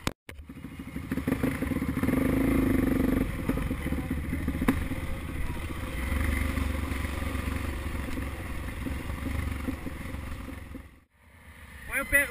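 A motorcycle on a rocky quarry trail ride runs with a steady low engine drone throughout, close and continuous, dipping briefly near the end before picking up again, with occasional clatter.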